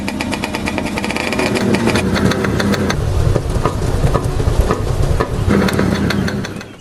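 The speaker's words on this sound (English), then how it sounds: "my doubts were cleared almost instantly as the motorcycle came alive without any hesitation" A restored 1950s Zundapp motorcycle engine fires up and runs steadily at close range, a loud continuous rumble with a rapid, uneven mechanical beat throughout.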